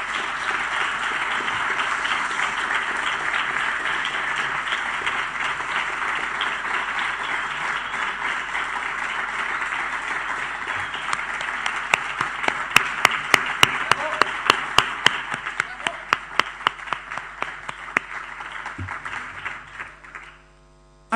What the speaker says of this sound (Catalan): m'agradaria que els donaré un fort aplaudiment